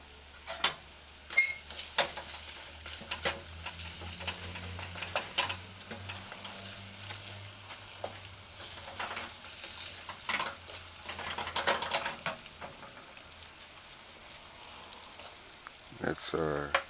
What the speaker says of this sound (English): add the shredded scallion. Just allow it to saute.